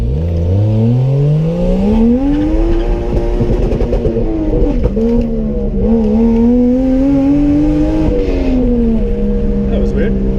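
A Toyota 1JZ VVT-i engine in a Nissan 240SX S13 revs up loudly from inside the car, its droning pitch rising and wavering, then briefly cutting out before picking back up, with people talking over it.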